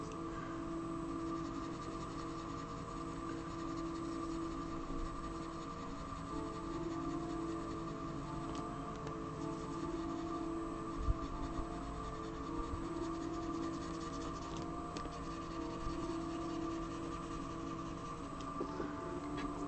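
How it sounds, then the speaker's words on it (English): A blue colored pencil rubs over paper in a quiet, continuous scratchy shading stroke, faint and close, with a steady low hum underneath and no voices. "this is just a blue colored pencil"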